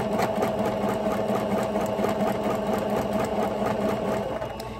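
A sewing machine stitches tulle ruffles onto socks, running in a fast, steady mechanical whir close by with no pauses.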